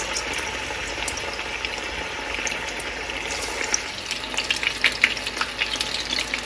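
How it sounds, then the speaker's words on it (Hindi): Chicken pakora pieces frying in hot oil over a high flame, a steady dense crackling sizzle with brighter pops growing busier toward the end, close and continuous with no talking. "हम अपना चिकन फ्राई करना शुरू करते हैं और याद रहे कि एक एक चिकन का पीस डालना है"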